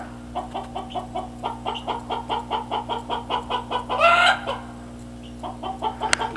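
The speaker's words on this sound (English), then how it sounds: "Chickens are just freaking out." Alarmed chickens cluck in a rapid, steady run of repeated calls as a hawk circles overhead, with a louder squawking burst midway, over a constant low hum.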